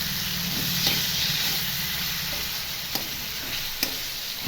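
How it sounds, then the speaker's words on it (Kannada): Two tomatoes fry in a pan for an egg curry, making a steady close sizzle with a few sharp spatula clicks and stirring scrapes. "ಟೊಮೆಟೊ ಸ್ವಲ್ಪ ಫ್ರೈ ಮಾಡ್ಕೋಬೇಕು"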